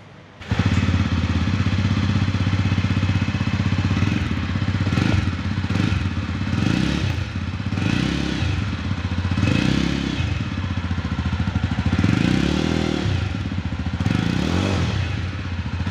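A Jawa 42 motorcycle engine runs steadily and loudly up close for the whole stretch, with a deep thumping idle broken by several short throttle blips.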